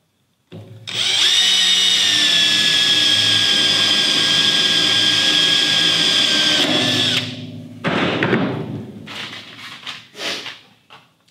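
A power screwdriver runs continuously at a high steady whine for about six seconds while driving wide flat-head screws into the cladding of a homemade camper trailer, followed by a few shorter bursts and handling noises.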